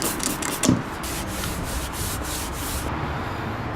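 Windex sprayed cloth rubbing over a model engine to clear grit and dirt, a steady close scrubbing swish with a brief louder rub early on, no talking.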